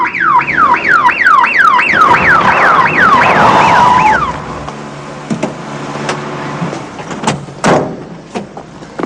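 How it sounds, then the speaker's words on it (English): A loud wailing siren sweeps rapidly up and down for about four seconds, then cuts off, leaving scattered knocks and clatter. "Oh, it's just an ambulance, Sonny."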